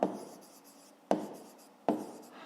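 Pen or pencil writing on paper while working out a fifth-grade maths exercise, three separate scratchy strokes each starting sharply and trailing off, close and clear with no talking.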